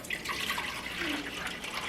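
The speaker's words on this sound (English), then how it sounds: "Put some water in here." Water poured into a small slow cooker, a short splashing trickle heard close and fairly soft, with no talking.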